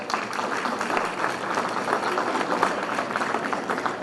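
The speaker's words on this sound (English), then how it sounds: "Let's give them a big round of applause" A crowd at an airport event applauds for several seconds, a busy, even patter of many hands at moderate loudness with no voices over it.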